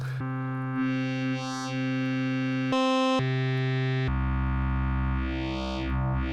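Buzzy, distorted modular synthesizer tones hold steady pitches, shifting abruptly between notes with sweeping filter movements; electronic and close, no voices.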